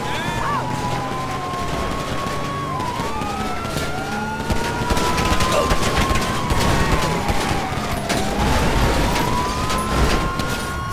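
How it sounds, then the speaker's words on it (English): Gunfire from suspects crackles during a police shootout in the video game GTA V, a dense run of sharp shots under continuous wailing sirens and engine noise, loud and sustained throughout. "Suspects have opened fire on me."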